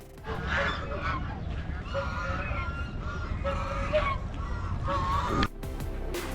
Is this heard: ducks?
yes